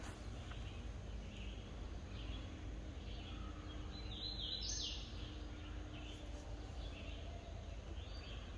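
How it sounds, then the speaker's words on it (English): Faint, scattered bird chirps rise over a constant low outdoor hum, distant and soft, with no one speaking. "Birds chirping."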